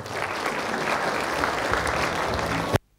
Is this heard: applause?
yes